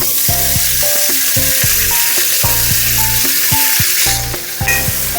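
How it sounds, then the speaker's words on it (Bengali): Potatoes, cauliflower and carrots fry together in hot ghee over a gas flame with a loud, unbroken sizzle, while a tonal melody plays steadily underneath. "এবার আলু, ফুলকপি, গাজর এই সমস্ত কিছু আমি একসাথে ভেজে নেব।"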